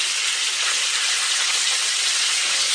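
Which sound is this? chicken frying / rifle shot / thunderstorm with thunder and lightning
chicken frying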